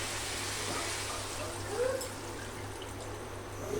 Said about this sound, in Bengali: আমি আন্দাজ মতো এটাতে ঝোল দিয়ে দিব এখন।